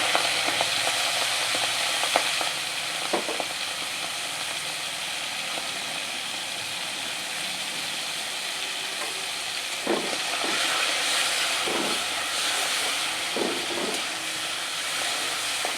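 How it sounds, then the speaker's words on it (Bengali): Prawns sizzling in hot oil in a pan for a Bengali potol chingri dish, a steady close frying hiss with occasional stirring clicks and pops, no voices. "তো চিংড়ি মাছগুলো আমি সবকটা ভেজে নেব।"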